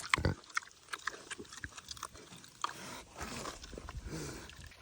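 A pig eats pumpkin nearby, with faint, irregular soft chomping and snuffling grunts over a quiet farm background.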